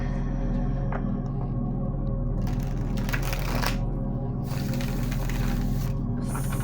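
Cards being shuffled in a steady riffling flutter, close by, with a constant low hum running underneath.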